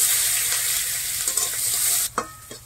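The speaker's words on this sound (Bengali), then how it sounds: "তেলের মধ্যে কিছুক্ষণ রসুন আর জিরে নাড়াচাড়া করে নিয়েছি।" Garlic and whole cumin stirred in hot oil in a wok make a loud, continuous sizzle that drops off abruptly partway through, followed by a couple of light utensil knocks.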